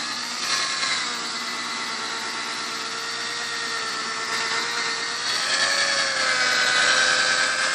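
A machine polisher spinning on car paint, buffing polish into a dull, faded finish: a steady whirring motor drone with a slowly shifting pitch, close and continuous, no talk.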